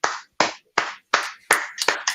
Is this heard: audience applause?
yes